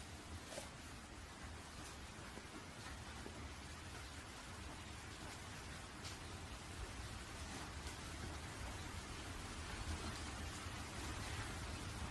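Rain falls steadily and softly in an even, broadband patter that holds for the whole stretch, faint and without voices.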